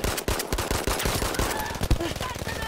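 Rapid machine gun fire in the Battlefield V video game, a dense, loud stream of close bursts, with a player talking briefly over it.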